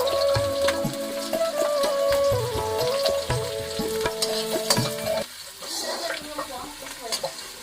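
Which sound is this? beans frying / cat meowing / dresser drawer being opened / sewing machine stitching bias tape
beans frying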